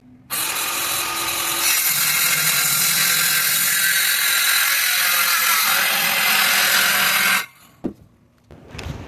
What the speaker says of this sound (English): I'm cutting out a new door step here.